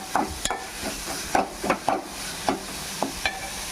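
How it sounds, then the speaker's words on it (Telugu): Ginger garlic paste frying in a pan for an Andhra-style mushroom gravy, with a steady sizzle broken by several clear scraping stirs of a spoon, heard up close with no voices. "అల్లం వెల్లుల్లి పేస్ట్ కూడా వేసాం కదా, ఇది కొంచెం పచ్చివాసన పోయేదాకా ఫ్రై చేసుకుందామండి."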